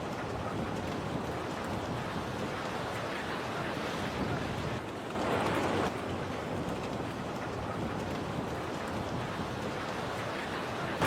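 A steady, loud roar of rushing floodwater through submerged city streets in Sichuan, China, fills the whole stretch, dense and unbroken, with a brief swell in intensity partway through.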